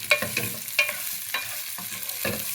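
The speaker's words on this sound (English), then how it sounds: "I'm going to try to get this tofu nice and crispy" Tofu frying in about two tablespoons of olive oil in a pan, a close, loud sizzle broken by several scraping stirs and pokes, with no talking.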